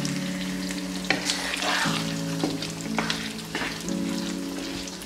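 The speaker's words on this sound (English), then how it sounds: "We stir everything together." Turkey gizzard being stirred in a bell pepper sauce, sizzling and frying steadily close by, with a few scraping stirs of the spoon against the pan and no talk.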